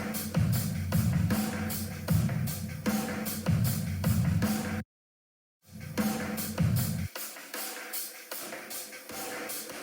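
Electronic drum beat from a produced track, played without its distorted, high-boosted layer: a steady pounding kick and percussion pattern, loud and up close, breaking off into a short silence before returning and thinning out.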